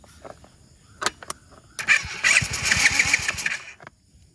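A motocross motorcycle at a dirt track is kicked over with a couple of brief coughing tries, then fires and revs loudly for about two seconds before cutting back down.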